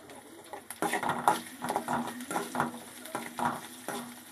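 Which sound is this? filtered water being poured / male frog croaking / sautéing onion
sautéing onion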